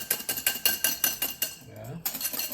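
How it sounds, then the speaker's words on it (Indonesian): A whisk rattles quickly against a bowl while beating pancake batter until slightly stiff, giving a fast run of metallic clinks that pauses briefly and then resumes, close and clear. "Ini kocok lagi, ya, kocok lagi sampai benar-benar sedikit kaku"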